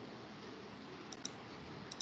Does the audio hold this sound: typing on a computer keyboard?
yes